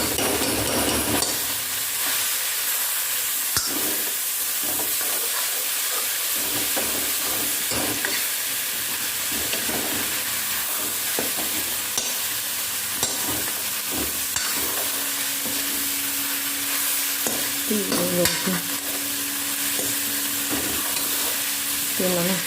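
Onions frying in a pan and being stirred, with a dense, continuous sizzle and hiss throughout, broken by repeated scraping strokes of the spoon.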